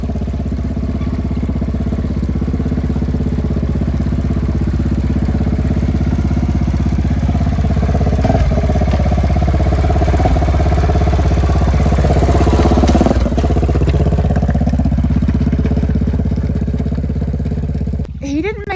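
A smaller KTM motorcycle runs continuously on a muddy off-road line in wet Wales, its mid-pitched engine droning loudly and close with rising and falling revs, and talk heard over it.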